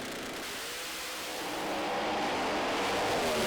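Pro Mod drag race cars launch down the strip, an orange Camaro among them, at the British Drag Racing Championship: a loud, steady engine roar that swells as they pull away. No one talks over it.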